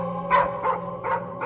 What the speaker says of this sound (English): So he hears his dog barking outside.